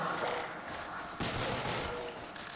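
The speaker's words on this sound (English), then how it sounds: "So these pistols are working out pretty great." Pistol fire in Call of Duty: Black Ops Zombies on the Kino der Toten map, a steady stream of game gunfire sounds with a sharper shot near the middle, mixed dense and fairly loud for under three seconds.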